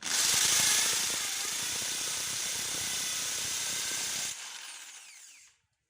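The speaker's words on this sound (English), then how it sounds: "we've drilled the holes on the wall" A power drill bores into a wall in one steady, loud, close run of about four seconds with a gritty hiss, then a quieter winding-down whine before it stops.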